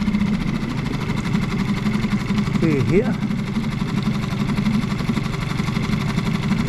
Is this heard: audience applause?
no